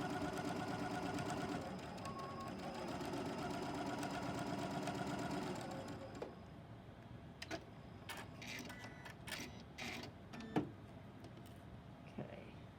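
Sewing machine stitching a quilt block seam, a steady close whirring hum for about six seconds, then stopping, followed by scattered soft handling clicks and rustles.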